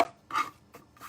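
A blade cuts shimmer white paper on a board, giving three short, faint scraping strokes with brief pauses between them in a quiet room.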